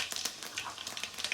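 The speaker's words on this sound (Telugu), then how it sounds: "కొంచెం ఆయిల్ హీట్ అయిన తర్వాత మనం చేపల కూర అంటే మెంతులు కదండి, ఒక 1/2 స్పూన్ మెంతులు అయితే వేస్తున్నాను" Fenugreek and mustard seeds sizzle and crackle in hot oil for a fish curry, a steady close hiss scattered with small pops, fairly quiet and with no voice.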